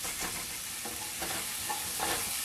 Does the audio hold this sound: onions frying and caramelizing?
yes